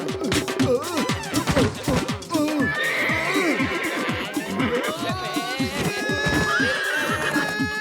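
A horse whinnies loudly and repeatedly over busy clip-clopping hooves, with a continuous, lively, close-up bustle throughout.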